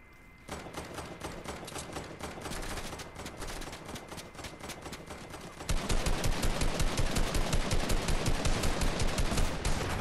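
Rapid automatic gunfire from a video game plays steadily throughout, a dense rattle of shots that grows louder and heavier about halfway through, with no talking.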